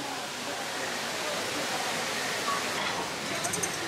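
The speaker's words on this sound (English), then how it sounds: "look at all the water from that waterfall in the middle of the walkway" Windblown waterfall spray rushes and splashes across a walkway at Disney's Animal Kingdom, a dense, steady hiss of falling water filling the scene, with a voice speaking over it.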